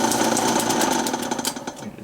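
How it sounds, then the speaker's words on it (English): A metal lathe runs steadily in a shop where a Triumph chopper is under repair, giving a continuous loud mechanical whir with rapid rhythmic clatter from belts and gearing and no voices. "Make sure our lathe is still working."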